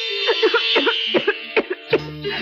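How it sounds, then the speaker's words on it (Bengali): A woman coughs several times in short, close, moderately loud bursts within a quiet indoor film scene, then a faint hum follows. "তোমারও তো কাশি হয়েছে"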